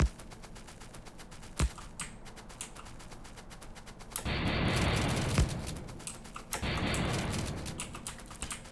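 Shotgun blasts in the video game Factorio fired while clearing biter nests and trees: a few sharp sharp bangs, with bursts of dense rapid fire in two longer stretches over steady clicky background sound, no talking.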